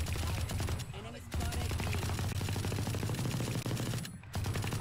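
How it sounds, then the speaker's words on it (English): Machine gun fire in the video game Valorant, rapid sustained automatic bursts filling the clip with short gaps, a voice speaking over it. "Machine gun!"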